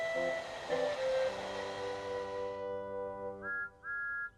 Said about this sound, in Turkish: Merhaba diye bipledi Thomas.